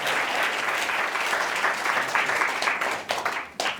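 An audience applauds warmly to welcome three panelists at a speaker series, a dense continuous wash of clapping that thins out and fades at the end.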